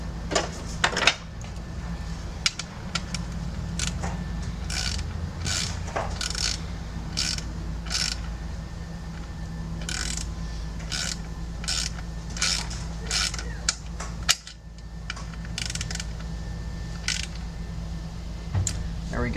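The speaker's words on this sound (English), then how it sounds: "Screw it in with your hand first little and then use the wrench." A hand wrench works on the screw of the rear coolant flange on a 2008 Audi A4 B7, giving close, repeated short metallic ratcheting clicks in bursts over a steady low hum.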